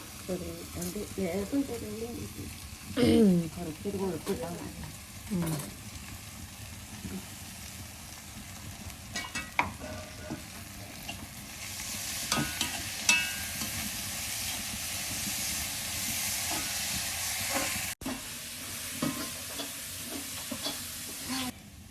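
Onions sizzle gently in a pan for chicken curry, a quiet, continuous frying hiss with occasional stirring clatter and scrapes, and a voice talking briefly near the start.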